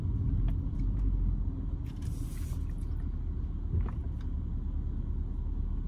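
A 2004 Mercedes-Benz S55 AMG on the move, giving a steady, loud low rumble of engine and road noise with faint higher hiss, constant throughout.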